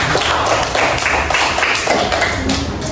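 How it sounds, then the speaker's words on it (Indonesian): Classroom applause for a student discussion group, a dense steady patter of many hands clapping throughout, fairly loud and unbroken with no talk over it. "Kita beri aplaus untuk kelompok 4."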